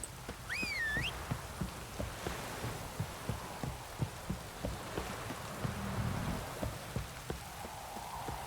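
Rain falls steadily in The Witcher 3 video game, a constant wash of hiss with regular, soft thudding patters and a brief high whistling tone near the start, with no talk.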